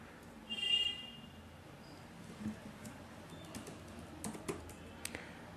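Keystrokes on a computer keyboard as an ID is entered, a few sparse clicks and a short burst of taps, close and fairly quiet with no talking.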